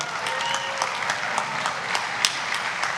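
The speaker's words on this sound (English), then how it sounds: "See, these are all people that are clapping that love their children." Audience applause during a political speech, a dense, steady wash of many hands clapping at close range, continuous throughout with no voices over it.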